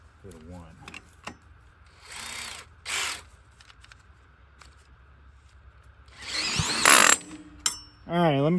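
A faulty power drill whirs in a few short bursts, revving up and stopping, with brief pauses and mechanical clicks between runs, while trying to start a 10,000-watt generator.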